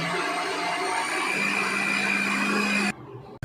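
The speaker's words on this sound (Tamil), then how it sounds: "அந்த வதக்கி வச்சதை மிக்சியில் போட்டு ஒன்றா அரைக்கணும்" A kitchen mixer grinder grinding sautéed vegetables gives a loud, steady, high whirring drone that cuts off abruptly near the end, followed by a short bump.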